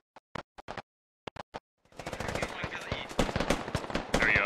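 Automatic gunfire from a military video game, starting as a few sharp isolated shots and then building into dense, continuous rifle and machine-gun bursts that grow louder toward the end.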